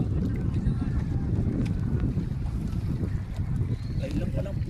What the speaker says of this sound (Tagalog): Nagana pa yung dalawang makina nito.